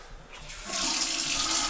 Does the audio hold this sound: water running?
yes